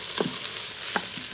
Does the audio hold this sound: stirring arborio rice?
yes